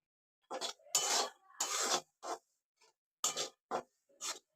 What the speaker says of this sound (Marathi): अर्धा किलो रवा घेतलाय याला छानपैकी भाजून घेणार आहे